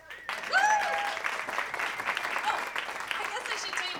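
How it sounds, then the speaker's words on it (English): An audience at a storytelling event breaks into applause that starts abruptly and carries on at moderate level, with a few whoops and voices mixed in near the start. "You can applaud."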